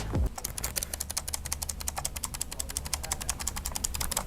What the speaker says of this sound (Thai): อ่ะเสียงสวิตช์มันจะไปประมาณนี ้